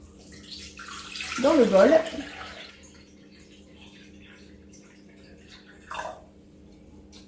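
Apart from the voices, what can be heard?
water poured into a bowl for bread dough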